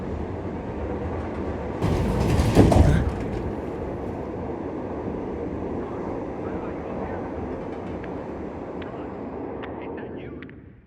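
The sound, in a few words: train running in the video game Dying Light 2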